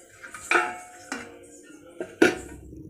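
A lid is set onto a metal pot of soaking gulab jamun, giving a few sharp metallic clanks and clatters spaced over a couple of seconds, close and clear with no talking.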